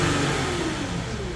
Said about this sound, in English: as you can see, idling at 50 millibar, and watch when I rev it